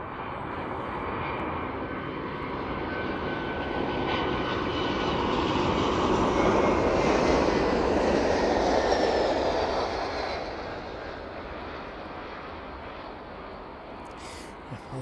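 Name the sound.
airliner landing at East Midlands Airport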